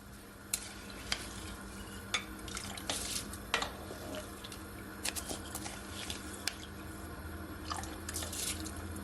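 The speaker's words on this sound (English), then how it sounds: "And I just wash my rice." Rice being washed by hand in a pot of water in a home kitchen, giving close, irregular splashes, swishes and small drips with sharp clicks scattered throughout, and no talking.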